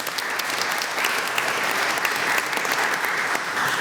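Sustained audience applause fills a theatre house for two volunteers, a dense, steady patter of many hands clapping at close range without pause, with no talk over it.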